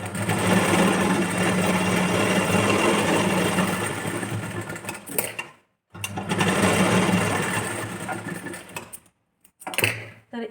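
An electric sewing machine stitches the shoulder seam of a princess-cut boat-neck blouse, whirring in a fast steady run, stopping briefly, then running again before a final short burst.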